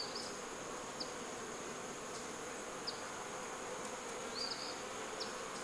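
Honeybees buzzing around an open beehive frame, a steady close drone with individual bees zipping past the ear in brief whines, no talk over it.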